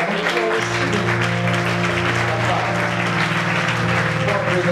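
A temple congregation applauds steadily at the inauguration of a new church headquarters, the dense clapping continuous throughout, with a sustained hum and murmur of voices underneath.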